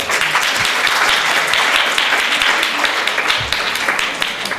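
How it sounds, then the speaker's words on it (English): Sustained, dense applause from a conference audience welcoming a wellness and holistic-healing speaker, loud and steady for several seconds with no talking over it. "Can we all have a round of applause for her?"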